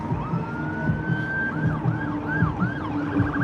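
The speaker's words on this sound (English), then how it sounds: "I think it's an ambulance." An ambulance siren wails in Blackpool near the White Tower, a steady rising tone that breaks into repeated two-tone swoops over a constant rumble of road traffic, fairly close and loud.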